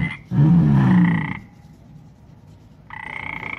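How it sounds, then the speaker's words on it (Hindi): Loud, low frog croaks in a rough burst, then quiet, then a second higher-pitched croaking call close by. "शेर को पता चल गया कि ये आवाज एक मेंढक निकाल रहा है।"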